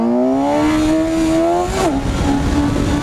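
A Suzuki GSX-S 750 motorcycle engine hums steadily while riding with the throttle untouched, its pitch rising slightly before a quick gear-like drop, loud and close with no voices.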